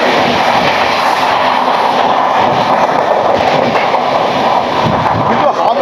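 The Humsafar Express runs along the rails in a steady, loud rumble of wheels and carriages, with a continuous clatter and some wind noise heard from on board the moving train.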